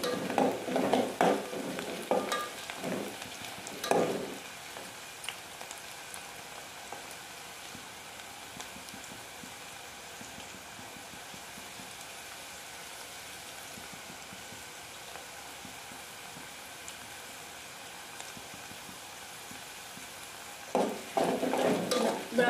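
Onions fry steadily in a pan for a country chicken curry, a low continuous sizzle with bursts of scraping stirs at the start and again near the end.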